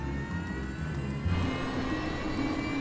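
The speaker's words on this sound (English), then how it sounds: "Captain Morwood uses the power of engine number 2, already running, to fire engine number 1." A Fokker F-28 jet engine spins up during start, powered by the already running second engine, with a steady whine and a deep rumble that swells partway through, close and continuous.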